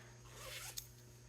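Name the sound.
zipper on garden herb drying pouch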